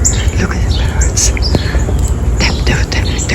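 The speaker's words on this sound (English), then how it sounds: "Look at the birds." Birds, including cardinals, chirp in short high tweets outside in the snow near a carport, scattered and moderately near under a low background rumble, with a person whispering faintly at times.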